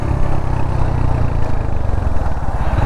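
Royal Enfield Hunter 350 motorcycle exhaust on a 2022 model, a steady bassy low rumble with pulsing throb, loud and close, running continuously without talk.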